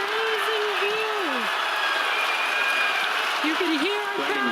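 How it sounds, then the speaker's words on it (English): Crowd roaring and cheering with broadband applause-like noise at a Falcon Heavy launch viewing as the side boosters land, sustained and steady throughout, with a voice talking over the din. "You can hear our crowd going crazy right now."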